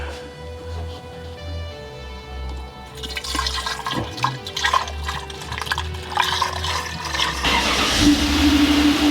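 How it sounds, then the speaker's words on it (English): Blue mixed coolant is poured into the cooling system of a BMW E36 engine in a workshop, giving a gurgling, splashing liquid fill that builds steadily over a low background hum. "We're just going to fill it up with some coolant. We've just got the blue coolant mixed up,"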